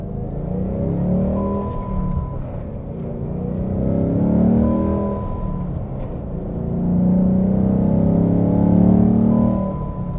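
A 2018 Ford Mustang GT V8 engine revs up and down in slow swells with a deep, close rumble, while a thin, steady shift-tone beep sounds several times at the top of the revs.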